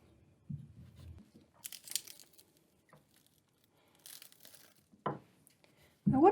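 A knife cutting an onion down the middle, brief crisp crunches and tearing crackles in short bursts amid near silence, ending with a voice.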